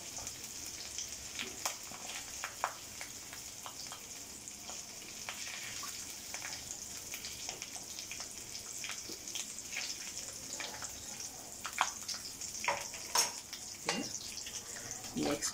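Potato pieces frying in oil in a pan for masala aloo dum, a steady faint sizzle and crackle with scattered small pops and occasional scraping, continuous throughout.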